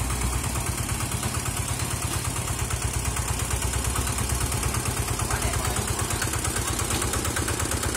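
A used tractor engine runs steadily at idle, a continuous close, even mechanical chugging with no pauses and no voices.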